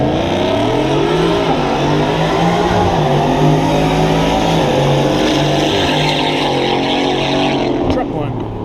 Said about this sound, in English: Sounds like they're getting some drag runs in